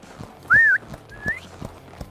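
Two short rising whistles from a rider to stop a horse, the second softer, with faint hoof thuds and rustling in between.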